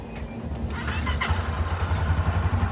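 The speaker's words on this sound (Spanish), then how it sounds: "Entonces abro el switch y voy a proceder al arranque." A motorcycle engine cranks and catches after the ignition switch is turned on, the start made on a battery under test. It settles into a steady low idle with rhythmic pulsing, close and fairly loud, with no talk over it.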